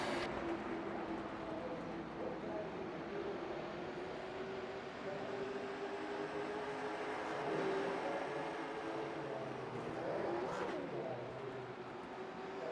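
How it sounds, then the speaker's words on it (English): A pack of race cars drives deep into a corner, their engines a steady, distant roar with shifting pitch as they brake and accelerate, continuous throughout. "Brad Stefan driving it down in deep into the corner"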